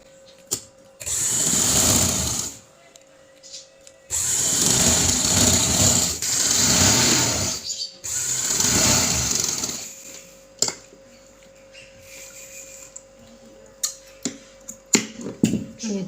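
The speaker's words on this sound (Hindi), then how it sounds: "इस तरह से किनारी की सिलाई लगाऊंगी" A domestic sewing machine stitches a lace edging onto trousers in three long, steady whirring runs, each a few seconds, separated by pauses filled with small clicks and handling taps.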